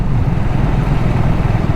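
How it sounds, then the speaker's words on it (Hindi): A motorcycle's engine braking on a rough off-road descent between Pokhara and Jomsom in Nepal, a loud, steady low rumble with a fast pulsing throb, close to the rider. "इंजन ब्रेकिंग से ही काम चलवा रहा हूँ।"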